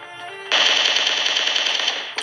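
Rapid automatic gunfire rings out in a battle royale video game, a steady unbroken burst lasting nearly two seconds over ongoing game sound, with one final sharp shot at the end.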